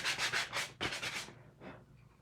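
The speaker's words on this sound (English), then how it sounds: "I'm just going to run a sandpaper over it." Sandpaper rubs over chalk-painted wood in a few quick, close back-and-forth strokes, the scratchy passes fading toward the end, with no talking.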